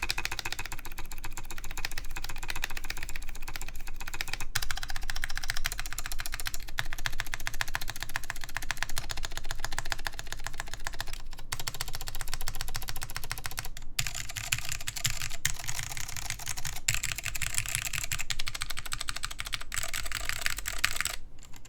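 Continuous rapid clatter of mechanical keyboard keys bottoming out against the plate, dense and close, with brief pauses between bursts of typing.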